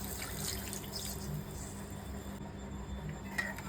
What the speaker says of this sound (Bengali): এইবার আমি সামান্য পরিমাণে জল দিয়ে দেবো পনিরে।